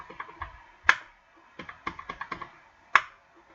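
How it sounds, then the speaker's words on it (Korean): Scattered clicks of a computer keyboard as a few keys are pressed one at a time, with two sharper, louder taps standing out among the lighter strokes, close and clear in a quiet room. "이 상태에서 F7 여러분 누르셔야 돼요."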